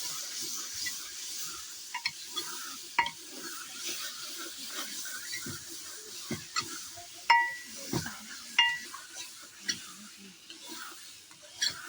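Spoon stirring spices in a cooking pan for a cabbage and tomato dish, with repeated scraping clinks and soft sizzling throughout, close and steady.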